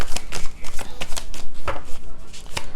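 A deck of tarot cards is shuffled close up in a quick series of crisp riffling and slapping bursts, about a dozen rapid strokes with no talking.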